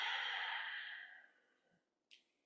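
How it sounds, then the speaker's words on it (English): A long, steady exhale during pranayama breathing practice starts strong and tapers off over about a second and a half. A short, sharp breathy puff follows after a brief pause. The sound is close and quiet, with no talking. "Exhale."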